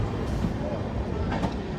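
SMVT Bengaluru–Tirupati Intercity SF Express train rolling along as it pulls out, a dense steady rumble and rattle heard from inside, loud and close, with a faint voice underneath.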